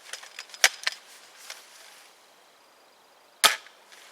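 An airsoft sniper rifle fires with a sharp, dry snap, followed by a second crisp crack a few seconds later, both close and brief against quiet with faint clicks between.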